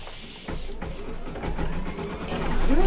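An embroidery machine stitches an appliqué for an in-the-hoop Halloween flower mug rug with a fast, steady mechanical whirring and clatter that grows louder toward the end, while a person talks briefly near the start.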